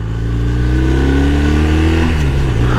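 A motorcycle on standard exhaust, fitted with an auto blipper, revs loudly up and then drops back as the blipper cuts in, with a steady close engine drone and no crackle or pops.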